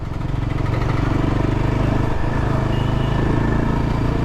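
A Yezdi Adventure motorcycle with a high-compression engine runs steadily for several seconds, a loud, even, throbbing exhaust pulse close by with no talk.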